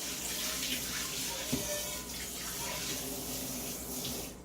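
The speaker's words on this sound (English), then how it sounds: "Quick rinse." Tap water runs steadily into a kitchen sink while freshly opened coconut pieces are rinsed for a smoothie, a continuous close splashing hiss with one brief clunk midway.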